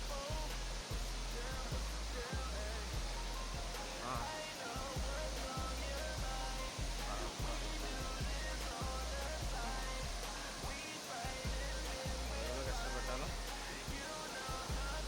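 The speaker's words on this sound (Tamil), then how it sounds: "ஃபால்ஸ் வந்தாச்சு கிட்டத்தட்ட. வாவ், வேற லெவல் ஃபால்ஸ்." Megam waterfall in the Kalvarayan hills pours in a steady, broad roar of falling water, continuous and close, with thumping bumps from movement nearby.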